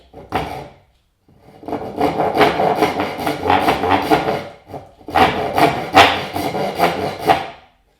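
Close, rhythmic strokes of a back saw rasping through wood held in a Moxon vise, one short burst followed by two longer runs of back-and-forth cutting.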